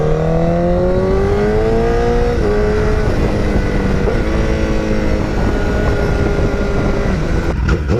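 A 2007-2011 motorcycle with an aftermarket exhaust idles and revs close up, its high, whiny engine note rising and falling in steady pitch sweeps with no talking.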